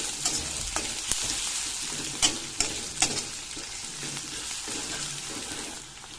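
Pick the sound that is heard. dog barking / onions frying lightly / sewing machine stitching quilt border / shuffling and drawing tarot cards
onions frying lightly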